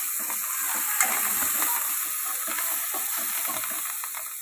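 Mint rice masala with ground coriander, cumin and garam masala sizzles steadily in a pan, with a soft continuous frying hiss and occasional stirring scrapes, close and alone.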